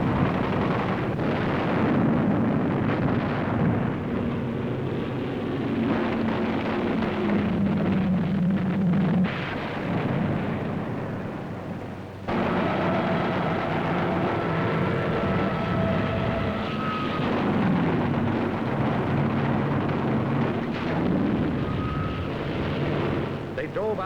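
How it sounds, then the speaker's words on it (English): Attacking aircraft roar low over the sea toward a carrier amid gunfire, a sustained loud rumbling din with bursts and rushing engine noise throughout, under a narrating voice. "Hundreds of land-based planes streaked low over the sea at our carrier."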